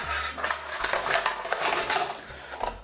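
Ingredients tipped into a metal pan while making gravy from scratch, a close, busy run of clattering, scraping and knocking against the pan for a few seconds, no talk.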